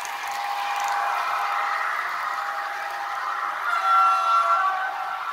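Model ÖBB CityJet electric train with a sound decoder, accelerating at about half power: a steady electric motor whine and hum that rises gently, with a thin high tone near the end, heard alone.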